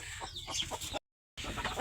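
Native chickens clucking close by at morning feeding on a farm, several short clucks in quick succession, broken by a brief silent gap before more clucking.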